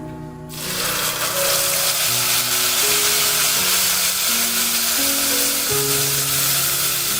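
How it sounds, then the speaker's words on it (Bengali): A paste of ginger, tomato and green chili hits a hot pan and fries with a loud, steady, close sizzle. Clunks of a utensil come and go underneath, and no one speaks. "খুব ভালোভাবে আদা, টমেটো এবং কাঁচা লঙ্কা বাটাটাকে ভেজে নিতে হবে"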